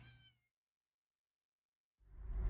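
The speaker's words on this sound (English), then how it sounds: "this kitten was there" A kitten found by a roadside as a car turns around, meowing briefly at the start, followed by silence and then a loud burst of rumbling noise.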